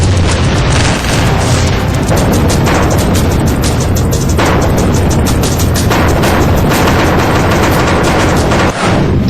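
Bomb explosions from strikes on terror launch pads in Pakistan: loud, dense, continuous booming blasts with sharp cracks layered throughout, filling the whole stretch.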